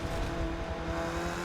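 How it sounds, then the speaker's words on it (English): Aston Martin race car in Forza 7 at Sebring by night, a steady engine drone holding a constant pitch with a low rumbling beneath, continuous and moderately loud throughout with no pauses. "you can hear his car. Yeah. Yeah, that's got to be that Aston."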